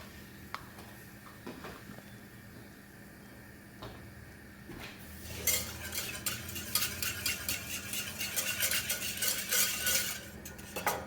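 Chicken jus in a pot being stirred as cornstarch slurry is added to thicken it, with quiet scraping at first, then busier clinking and bubbling that grows louder in the second half, with no talking.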